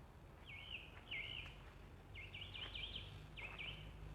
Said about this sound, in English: That loud voice is the song thrush.